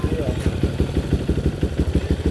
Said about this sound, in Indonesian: Ini motor apa motor Arnold Schwarzenegger?